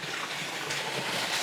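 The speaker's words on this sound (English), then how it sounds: "Wow, this waterfall is beautiful." A waterfall in a Utah slot canyon, heard as a soft, continuous hiss of falling water, steady and fairly faint throughout with no voices.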